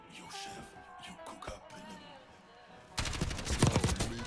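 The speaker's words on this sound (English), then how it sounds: "Today we are on firing range, and we are using the LMG Kilo." A Kilo 141 set up as a light machine gun fires in Black Ops 6, with scattered shots early on and then a loud sustained automatic burst at the end, over faint background game noise.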